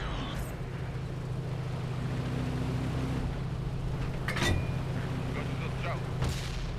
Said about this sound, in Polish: jest ten bug, cały czas słychać ten dźwięk tego silnika.